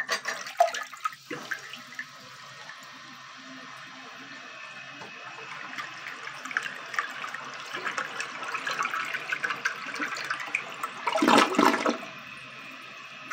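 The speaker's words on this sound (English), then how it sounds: "I thought we'd go ahead and do a flush test with some toilet paper." A 1988 black Eljer Windsor toilet is flushed with toilet paper in the bowl. Water rushes and swirls nearby for several seconds, builds to a loud gurgling drain near the end, then settles into a quieter refill.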